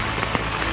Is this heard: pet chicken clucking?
no